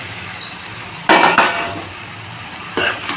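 Chickpea curry (chana usal) stirred in a pan, with a couple of loud scraping, clattering bursts of spoon against metal over a steady background hiss.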